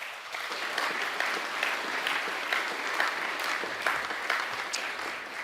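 A hall full of people at a school co-curricular awards ceremony gives a sustained round of steady clapping that holds at an even level throughout.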